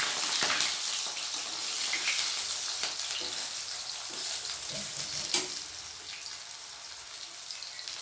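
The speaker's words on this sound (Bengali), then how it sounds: "এবার আমি সয়াবিনগুলোকে তেলে একটু ভেজে নেব।" Soybean chunks frying in white oil in a wok give a loud, steady sizzle that fills the whole stretch, with faint stirring scrapes and no talk.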